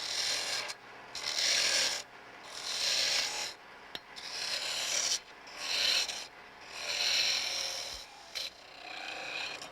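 A chisel cuts a cove in wood spinning on a Shopsmith lathe, in repeated raspy scraping passes of about a second or two each, separated by short pauses, close and moderately loud with no talk.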